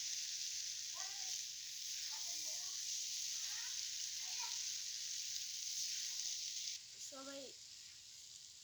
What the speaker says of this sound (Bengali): ওই যে আমাদের রাঁধুনি রান্না করতেছে